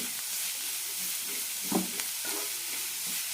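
Ingredients for ragi aval upma sautéing in a pan: a continuous soft sizzle and hiss with a few scraping stirs of a spoon, close and moderately quiet.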